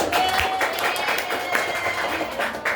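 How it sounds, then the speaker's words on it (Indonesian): A class of children in a school lesson applauds a classmate with lively, scattered hand clapping that keeps up throughout, close and fairly loud, with a few voices mixed in. "Beri tepuk tangan dulu anak"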